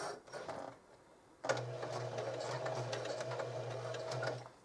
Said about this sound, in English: I'm going to do about 3 stitches forward, and then I'll come back.